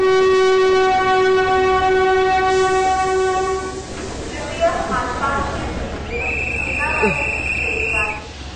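A train at a station sounds a long, loud horn blast that fades, followed by rumbling carriages and a second horn tone, with voices speaking over the noise.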